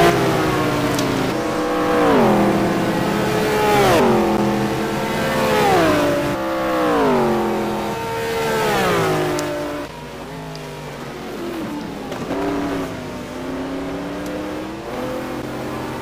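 McLaren GT1 race car at Mugello in a racing game, its engine revving hard through repeated rising and falling gear changes, loud and close, easing into a lower drone near the end.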